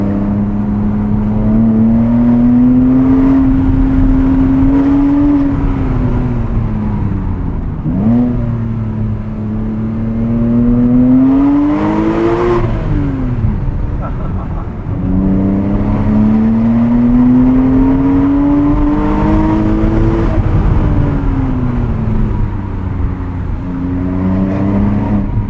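A 2006 Porsche Cayman S with a flat-six engine and six-speed manual gearbox pulls hard through the gears from inside the cabin, its loud rising engine note climbing, dropping at each shift and climbing again in steady repeated sweeps.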